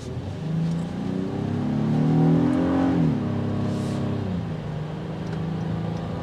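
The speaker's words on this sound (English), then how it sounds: "As for power, naturally aspirated V6," Naturally aspirated V6 of a 2024 Honda Passport Black Edition pulling up through the revs, engine note rising and swelling to a peak mid-way, then easing back to a steady drone, heard from inside the cabin.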